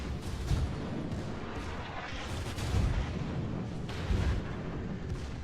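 Heavy naval artillery booms from warship guns in World of Warships, several deep low thumps recurring every second or so amid rumbling battle noise.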